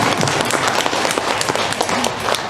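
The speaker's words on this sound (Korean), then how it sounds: "박수 치려면 더 치더라고요" An audience at a Catholic Advent lecture claps, producing a loud, dense spread of applause with scattered individual claps standing out, steady and unbroken throughout.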